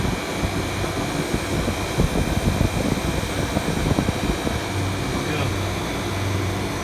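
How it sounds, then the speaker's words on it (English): A walk-in cooler's refrigeration compressor runs steadily with a constant low mechanical hum and fan-like whir, moderately loud and close, with faint talk and clatter over it. "running cool, everything nice and quiet. nice cool compressor."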